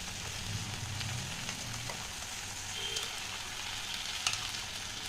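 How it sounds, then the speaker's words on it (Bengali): Okra fries in a pan with a quiet, even crackling hiss, close and faint, with a couple of soft clicks and no voices. "তো দেখো ঢেঁড়সটা অনেকটাই ভাজা হচ্ছে"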